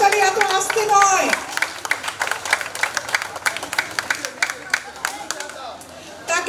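A brief voice opens, then an audience at a Durga Puja inauguration breaks into dense, crisp clapping that honours a visiting swami, rising and falling in waves before briefly swelling again at the end.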